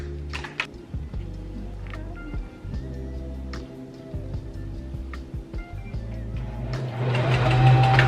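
A sewing machine stitches fabric in short bursts, its close, steady mechanical whir stopping and starting several times, then running louder and faster near the end.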